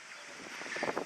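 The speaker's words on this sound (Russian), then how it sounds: "Ветер сильный, конечно, дует встречный." Strong headwind buffets the microphone while riding an electric bike with a 36V 350W Volta hub motor, a rough broadband roar that swells and gusts over about a second.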